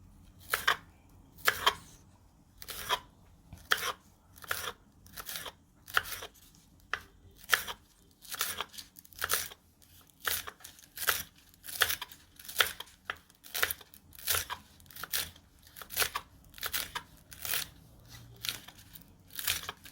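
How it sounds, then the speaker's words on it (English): A knife chops fresh garden scallions diagonally on a board in quiet, steady strokes, about one per second, with no talking. "I do have some scallions and I'm just going to be chopping them this way,"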